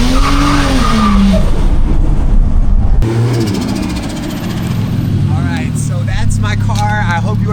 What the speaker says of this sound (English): you can hear the wastegate going